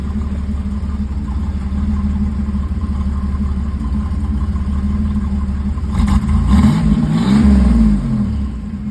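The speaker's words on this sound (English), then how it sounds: "Give you guys a little rev so you guys can hear it up" A 1987 Buick Grand National with T-tops idles loudly and steadily up close, then its engine is revved in a couple of rising bursts before settling back toward idle.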